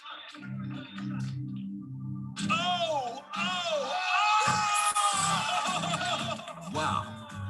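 A group of people cheer and whoop loudly over a basketball attempt, excited shouts rising and overlapping with voices talking throughout.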